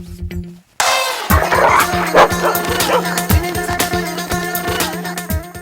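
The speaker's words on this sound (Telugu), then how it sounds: "అరే, ఇది మన కుక్కలా ఉంది." A dog in a film comedy scene barks and yips repeatedly, with whimpering mixed in, loud and close over background music after a short pause at the start.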